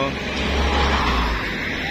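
Cars and other vehicles stream past on a busy road beside a rice mill, a loud continuous traffic rumble close by, with people talking over it.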